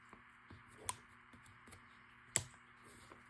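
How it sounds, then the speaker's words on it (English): Two crisp, quiet snips of small scissors cutting threads, spaced a second or so apart, with faint light clicks and rustles in between. "you can just take your X-Acto knife or little tiny scissors and just snip those"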